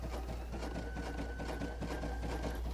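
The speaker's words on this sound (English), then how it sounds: "we're stitching successfully on our Sashiko machine" A Baby Lock Sashiko sewing machine stitches through fabric, giving a steady, fast mechanical whir with a constant clatter throughout, close and alone with no voices.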